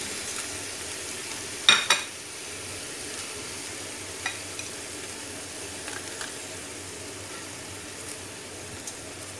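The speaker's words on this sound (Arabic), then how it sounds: "تتقلى ليتغير لونها" Meat frying in a pot with oil for shakrieh, a low steady sizzle with a couple of sharp scraping stirs early on and fainter clinks later, no voices.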